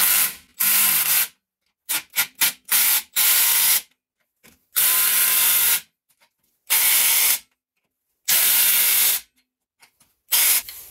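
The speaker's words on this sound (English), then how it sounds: "Now let's install these nuts. I'm going to use my impact" A pneumatic impact wrench runs up shock absorber nuts on the front suspension of a Renault Trafic, Vauxhall Vivaro or Nissan Primastar van, firing in several loud, close bursts of hissing, rattling power, some long and some short, with silence between them.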